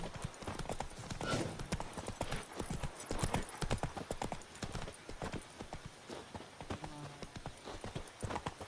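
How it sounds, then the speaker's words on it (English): Horse hooves clip-clopping in The Witcher video game, a steady rapid patter of hoofbeats running throughout amid faint game ambience. "Run me down with the horses."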